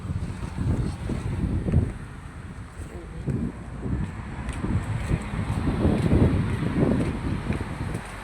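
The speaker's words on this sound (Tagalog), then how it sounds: "Malakas ang hangin dito" Strong gusty wind roars and buffets the microphone continuously, a heavy rumbling rush with no pause across the whole stretch.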